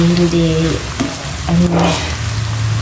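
Chicken pastel stirs and fries in a pan, a steady sizzle with scraping stirs under a voice speaking Filipino.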